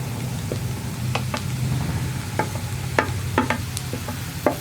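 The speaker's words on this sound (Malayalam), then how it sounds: "നമുക്കിനി ഇതിലേക്ക് നമ്മൾ മസാല ഉരുട്ടി വെച്ചിരിക്കുന്ന കോവയ്ക്ക ചേർത്ത് കൊടുക്കാം" Masala-stuffed ivy gourd frying with onions in a pan, a steady low sizzle broken by repeated sharp scrapes and clicks of a spatula stirring, close and with no talk.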